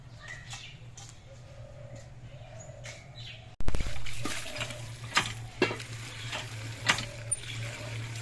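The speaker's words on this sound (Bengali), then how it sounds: "এই জন্য আমি কলে গিয়ে বেশ কয়েকবার ধুয়ে নেব" Leafy greens being rinsed several times in a small basin under a running tap, heard as water rushing and splashing in irregular bursts that start suddenly and stay loud, with birds chirping faintly throughout.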